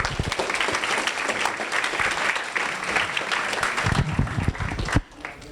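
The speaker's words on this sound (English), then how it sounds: "Please give him a round of applause." A crowd at a student senate event claps for a senator, a busy, fairly close round of applause lasting about five seconds, ending suddenly with a few last claps.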